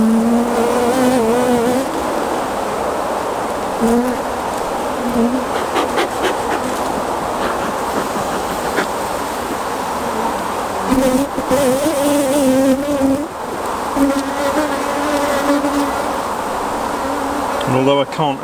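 Calm honey bees at an open hive hum in a continuous buzz with wavering tones, close to the listener and fairly loud, with occasional handling noises mixed in.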